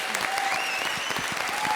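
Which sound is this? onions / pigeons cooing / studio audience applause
studio audience applause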